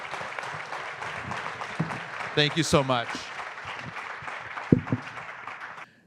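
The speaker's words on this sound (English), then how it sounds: "if we could please get one more round of applause for our great panel" A brunch audience applauds a panel in a sustained round of clapping, with a voice briefly speaking over it before it fades out.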